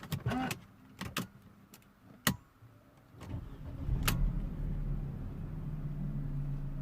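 Mercedes C180 W203 car is restarted after an airbag SRS fault repair: a few sharp clicks and clunks, then the engine cranks and settles into a low steady idle, heard from nearby.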